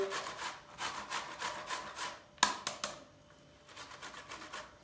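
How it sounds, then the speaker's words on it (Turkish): An onion rubbed against a metal grater in a kitchen, a run of rhythmic scraping strokes, a brief pause with a sharp knock, then more steady rasping, close and moderately loud with no talking. "İçine bir çay kaşığı dence kadar az bir soğan rendeleyeceğiz."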